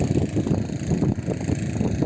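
A Honda engine drives an irrigation water pump for a hazelnut orchard, running under heavy load as a steady, close, low rumbling drone with wind buffeting the microphone throughout.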